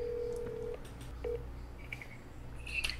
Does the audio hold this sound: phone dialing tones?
yes